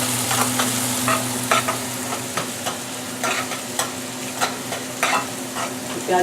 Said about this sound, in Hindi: प्याज अच्छे से फ्राई हो रहा है, आप देख रहा होगा